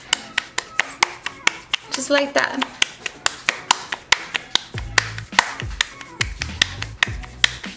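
Masa dough for gorditas clapped and patted between two hands, giving a steady run of sharp, close slaps about every third of a second, with a person talking briefly over them.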